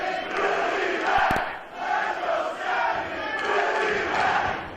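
A wrestling crowd in PCW Memorial Hall roars steadily throughout, a loud, dense wash of cheering and shouting that swells and dips without a break.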